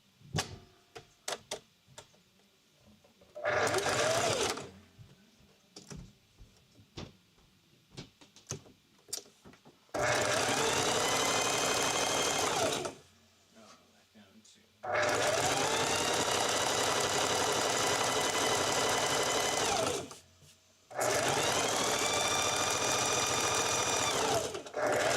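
A sewing machine stitches fabric down onto a rope coaster in several loud bursts of steady whirring, separated by pauses with small clicks and handling noises.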